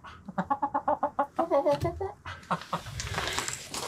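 Hens in a snow-covered three-season greenhouse cluck in a quick rhythmic series of about a dozen close, loud calls, followed by rustling and scratching noise.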